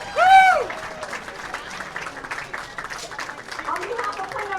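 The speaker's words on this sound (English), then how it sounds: "How about one more big round of applause for these ladies?" Audience applause and cheering at a PWBA women's bowling championship final, opening with a loud whoop before settling into moderate, steady clapping with some crowd voices.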